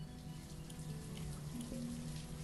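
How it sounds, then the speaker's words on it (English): Light rain falls in the city-building video game Banished as a soft, even patter of drops under a quiet ambient music bed. "Bit of rain, but never mind."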